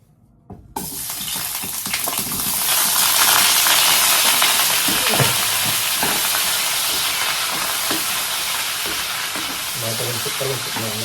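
Potatoes hit hot oil in a pan for chicken liver and gizzard adobo, bursting into a loud steady sizzle that holds close and continuous, with occasional stirring clatter.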